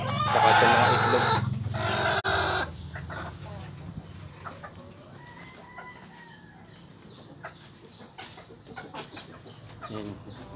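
Chickens on a small organic backyard farm cluck loudly and close for the first few seconds, then softer scattered clucks and bird calls continue at a distance under a low background murmur.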